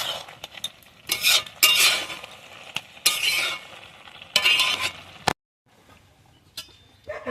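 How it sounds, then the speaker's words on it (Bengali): Khud rice stirred in a pot for a traditional Bengali village breakfast, a spoon scraping and clinking in bursts with a faint sizzle beneath, pausing briefly near the end. "দিয়ে আমি ভালোভাবে ঘেঁটে নেব।"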